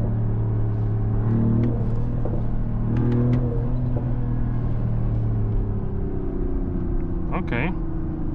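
Inside a 2025 Mercedes-AMG GLE 53 hybrid coupe, the engine gives a low, steady rumble while driving through the city, heard beneath a person talking for most of the stretch.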